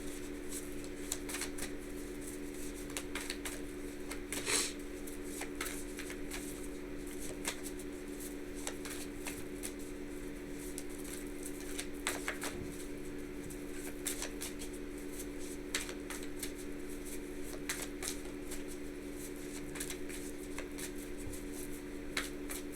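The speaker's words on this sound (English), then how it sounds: "Okay, I need to shuffle again." Tarot cards are shuffled repeatedly, soft riffling and tapping at close range, quiet and steady over a faint background hum.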